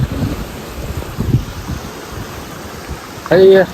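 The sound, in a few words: sea waves breaking at Diu beach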